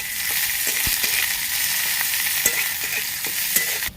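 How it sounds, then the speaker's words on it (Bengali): Chopped onion sizzles steadily in hot oil in a pan, with a few sharp clicks and scrapes from stirring over the continuous frying hiss until it cuts off at the end. "পেঁয়াজটা ভেজে নেব।"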